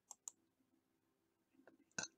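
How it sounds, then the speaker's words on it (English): A single short burp is heard close to the mic during a SimCity gaming session, preceded by a couple of faint clicks and soft low sounds, with no talking. "Okay, I burped."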